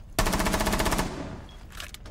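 An MP7 with an ACOG sight fires in the game Rainbow Six Siege, letting off one loud, rapid burst of about a dozen close shots. A short ringing tail and faint scattered sounds follow.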